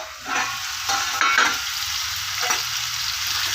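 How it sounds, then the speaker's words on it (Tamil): Potatoes frying in a pan for tomato rice, stirred steadily: a constant loud sizzle with scraping strokes of the spoon running through it, close up and without talk. "நல்லா கொஞ்சம் இப்படி கிளறி கிளறி விடுங்க"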